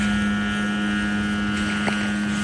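A one-arm-span kite fitted with a hummer buzzes in strong wind, a loud, steady, unbroken drone that holds one pitch throughout with no talking over it.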